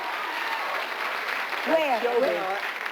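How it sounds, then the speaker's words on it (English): Studio audience on a TV talk show applauding Duran Duran, a short steady burst of clapping with a voice talking over it toward the end. "You get a round of applause."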